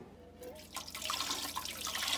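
Hot water poured into a canning pot for deer meat, a steady, fairly quiet liquid rush and splashing that builds after a brief hush and continues to the end.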